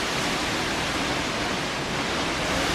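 A waterfall roars in a steady, dense rush of falling water, loud and unbroken throughout, with no voices.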